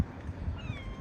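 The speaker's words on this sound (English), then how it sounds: "There's a little cat up there." A small cat meows once or twice on a town street in the evening, a short close mew over faint outdoor background.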